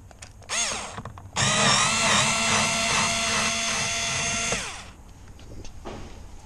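A powered screwdriver backs a screw out of a Chevrolet Spark door panel, giving a steady high whirring whine for about three seconds between quieter handling noises.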